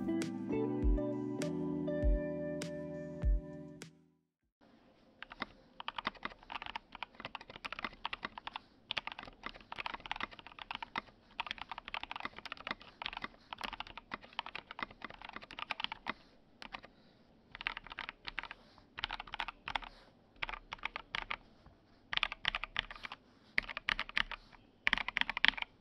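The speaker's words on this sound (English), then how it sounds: "now to the sound test" Typing on an Idobao ID80 Crystal mechanical keyboard with PBT keycaps, missing its 2U right shift key: a steady run of close, crisp keystroke clacks in irregular bursts with brief pauses, following a few seconds of louder, different sound.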